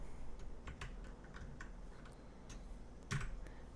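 Numbers typed on a computer keyboard: a few sparse, close key taps at an irregular pace over a faint steady background, no talking.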